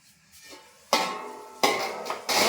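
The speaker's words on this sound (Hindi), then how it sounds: "हाँ, चावल मिक्स करने वाला हूँ।" Rice stirred into a pot of Marwari gatta vegetable khichdi with a metal spoon, giving sharp clanking scrapes and knocks against the pot in a few bursts, close and fairly loud, with no talking.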